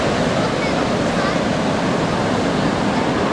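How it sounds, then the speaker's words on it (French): Ocean waves break continuously at the Anglet surf spot, a steady, full wash of surf roar with no pauses, close and fairly loud throughout. "Il y a vraiment des vagues sympas qui passent par moment"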